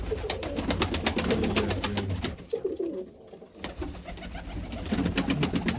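Young pigeons coo steadily and close by while being fed wheat grain, with a dense overlapping chorus of soft throaty calls and light ticking sounds throughout.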